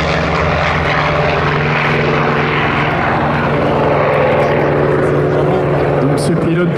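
A Russian propeller fighter plane flies past at the Melun air show, a loud continuous engine drone with a steady propeller hum throughout, with speech faintly audible beneath it.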